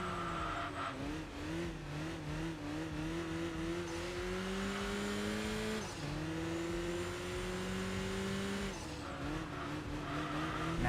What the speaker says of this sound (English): Hearing that engine out of the mid-engine, you know, Italian sports car.